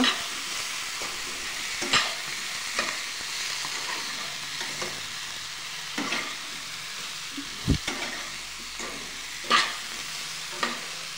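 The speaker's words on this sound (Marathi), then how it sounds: "2 मिनिटं परतून घ्यायचं चांगलं मस्त." Potato and fenugreek (aloo methi bhaji) stir-fried in a pan: a steady close sizzle broken by irregular scraping strokes of the spatula, with no one speaking.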